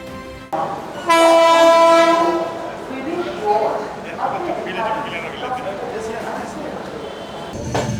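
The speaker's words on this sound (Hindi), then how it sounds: "आ गई अपनी ट्रेन।" A passenger train pulls into a station on a long-distance Delhi to Kerala trip, its loud horn blaring for about a second, followed by rumbling wheels and platform bustle with people talking in the background.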